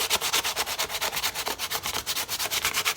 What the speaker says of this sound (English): you're just going to use a light sandpaper and just sand